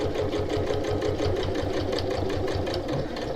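A sewing machine top stitches fabric in a tote bag at a steady, even pace with a rhythmic mechanical thump, close and continuous.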